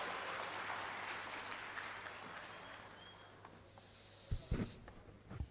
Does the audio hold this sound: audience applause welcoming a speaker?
yes